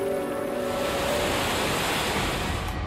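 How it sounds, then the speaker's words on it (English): Niagara Falls roars with a steady, dense wash of falling water that holds unchanged throughout, loud and close, with no voices. "Niagara Falls, the largest set of waterfalls in North America"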